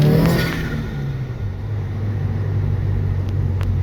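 A Subaru engine revving around 2,000 RPM, a steady loud low drone holding close and even after a brief rising surge at the start.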